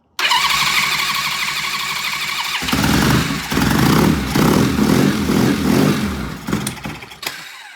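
Norton motorcycle engine cranked over with fuel on, key on and no choke as it tries to fire: a loud, steady whirring crank that breaks into rapid, pulsing chugs of near-catching combustion, then stops abruptly, close and with no talking.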